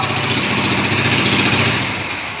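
A student-built mechatronics vehicle's engine, fitted with a starter and a forward-reverse gearbox, running loud and close with a rapid, even thumping beat that eases slightly at the end.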